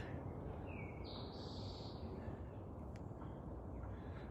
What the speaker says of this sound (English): listening to those birds singing